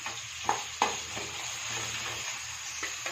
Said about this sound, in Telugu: కొంచెం అల్లం పేస్ట్ వేసుకుందాం